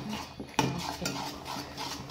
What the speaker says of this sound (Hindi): दुधा पावडर आनी अशें अशें मिक्स करीत घेवपाचें